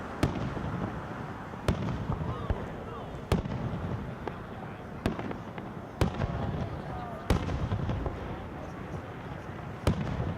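A community fireworks display set off from Central Park South near the Okemos Post Office bursts in distant sharp booms, about one every second or two, over a steady wash of crowd murmur and talk.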